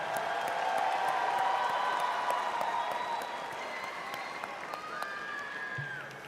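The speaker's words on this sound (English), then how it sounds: "give them a special round of applause for your appreciation" Graduating high school students applaud their loved ones in the stands at a graduation ceremony, sustained crowd clapping with some cheering that eases slightly toward the end, with faint voices in the crowd.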